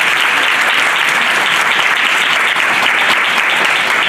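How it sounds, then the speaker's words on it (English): An audience applauds steadily, a dense even wash of clapping from a large crowd that holds at full loudness throughout without pause. "Can we give them another round of applause?"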